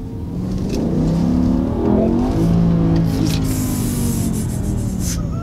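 A car pulls hard away from a traffic light with the throttle floored, its engine note swelling and climbing steadily in pitch, loud and close, with road and tyre noise beneath and no talking.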